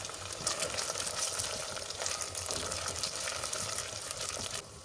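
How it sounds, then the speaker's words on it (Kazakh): Potatoes, onion and tomato frying in oil for a lentil soup, a steady soft sizzle with faint stirring, close and alone, fading slightly at the end. "Оның үстіне картошканы салып, жақсылап араластырып қуырамыз."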